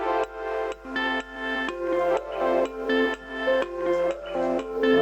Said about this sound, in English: I've got like found a little bell.